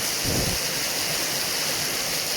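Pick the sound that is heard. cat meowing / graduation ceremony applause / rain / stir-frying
rain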